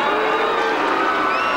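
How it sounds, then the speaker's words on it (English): A tennis crowd at the 1999 Australian Open boos and jeers Galo Blanco as he leaves the court, a loud dense crowd noise that holds steady throughout. "the crowd has taken a dislike to something. Galo Blanco getting the bird as he leaves the court"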